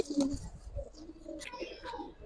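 A young giribaz pigeon squab coos softly in a few short, low calls, close by and quiet, while a person talks over it.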